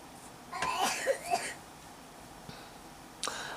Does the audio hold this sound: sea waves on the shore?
no